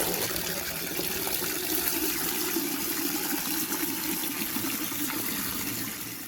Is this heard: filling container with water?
yes